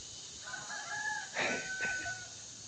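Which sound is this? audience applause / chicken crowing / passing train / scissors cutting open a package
chicken crowing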